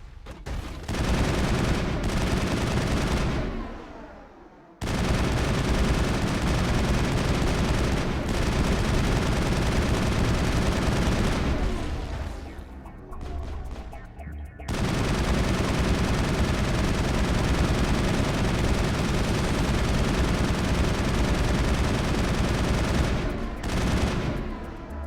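Gunfire with new ammo in Mass Effect, long stretches of sustained rapid automatic fire, loud and close, broken by a few short pauses.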